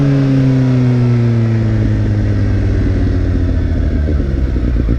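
Motorcycle fitted with a Yoshimura Alpha exhaust with its baffle removed, revving up and down close by, a loud continuous engine note with rising and falling pitch and no talk.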